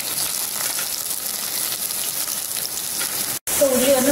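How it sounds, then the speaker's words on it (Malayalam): Long-sliced onions hitting hot sunflower oil in a pan, a steady loud hiss and crackle of frying throughout, with a brief cut near the end followed by a faint tone. "ഞാനിപ്പോൾ നീളത്തിൽ അരിഞ്ഞ സവാളയാണ് ഇടാൻ പോകുന്നത്."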